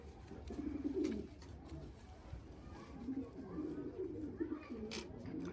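A large standard-type racing pigeon in a loft coos in low, rolling bursts, quiet and close, with a softer second run of cooing after a pause.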